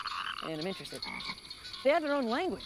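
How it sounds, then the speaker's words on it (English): Frogs give rhythmic, warbling mating croaks and trills in a swamp, two bursts rising and falling, with someone talking underneath in between. "When you hear frogs chirping, ribbit, it's usually a mating call."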